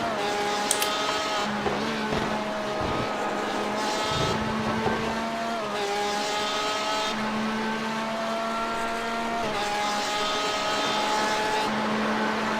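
A Porsche RSR GTE race car in iRacing's Le Mans 24-hour race revs hard as it leaves the pit, with repeated rising engine pulls, gear changes and steady loud whine throughout.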